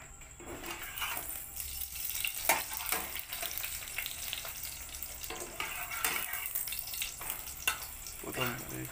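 Egg roll flatbread frying in oil in a pan, a steady soft sizzle with scattered clinks and scraping of a utensil throughout.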